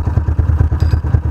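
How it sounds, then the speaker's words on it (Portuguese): A Malcor XZF 250cc motorcycle engine runs close up at a steady idle, its single-cylinder thumping firing in a fast, even rhythm with some mechanical clatter, loud and alone. "Deixar a moto circular bem o óleo."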